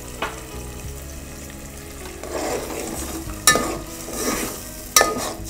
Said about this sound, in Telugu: నెక్స్ట్ కోకోనట్ మిల్క్ యాడ్ చేస్తున్నారండి